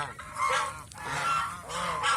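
A goose honks several times in nasal, repeated calls that rise and fall, fairly close and clear, with no talking.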